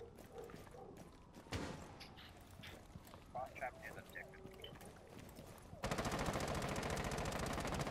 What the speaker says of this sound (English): I'm gonna shoot through this wall